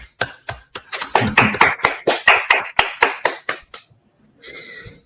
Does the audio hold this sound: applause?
yes